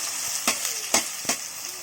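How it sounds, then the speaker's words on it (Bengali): Onions frying in hot oil in a village kitchen while mutton is being cooked, giving a steady, close sizzle broken by a few sharp crackles and pops. "এবার তেলের মধ্যে পেঁয়াজ দেওয়া হচ্ছে।"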